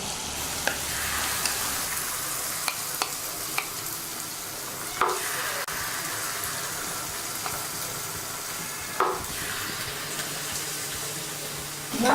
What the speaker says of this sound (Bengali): তেলটা গরম হয়ে গেছে, এবার আমরা মালপোয়া ভাজা শুরু করে ছোট ছোট করে দিতে হবে।